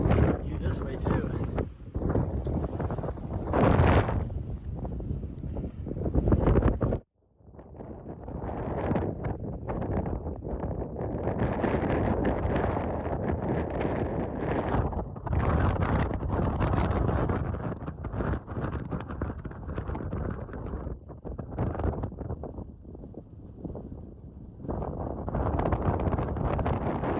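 Strong wind buffets the microphone outdoors, a steady roaring rumble that breaks off briefly and then returns, with a person talking over it.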